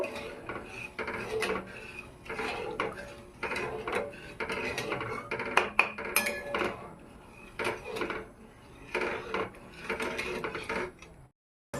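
Chhana payesh with sugar is stirred in a pan, giving close, irregular scraping and clinking of a utensil against metal in repeated bursts, moderately quiet with no talking.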